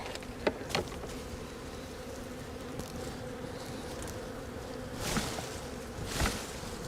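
Honey bees buzz steadily throughout during a swarm capture, a dense droning hum with a few individual bees passing close and louder.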